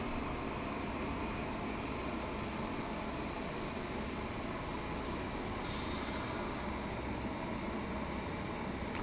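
A train pulls into Gatwick in the Train Sim World 2 video game, with a loud, continuous roar of wheels and rumbling carriages and faint high squeals, steady throughout.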